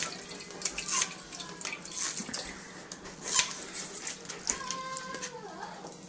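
Water runs steadily through a reverse osmosis desalination setup stripping salt from saltwater, a continuous tap-like flow with soft trickling and a few faint clinks, heard alone at close range.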